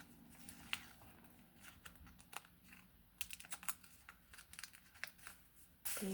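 Close, quiet crinkling and rustling of a thin plastic or paper packet in short irregular bursts, with small taps and handling noises.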